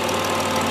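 Ford 3.7 Duratec V6 swapped into a car, newly installed, idling steadily with a constant low drone and a faint knocking texture, heard close with no voices.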